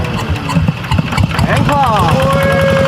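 A motorcycle engine is kick-started and settles into a loud, close idle with a rising rev, while people talk over it outdoors in a rice field.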